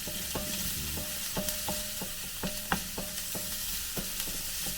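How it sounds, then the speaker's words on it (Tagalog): Onions sautéing for pork adobong sitaw, a Filipino dish, with steady frying sizzle in the pan and regular clicks of a utensil stirring against it, close and alone with no talk. "Sibuyas muna guys ang ating igisa."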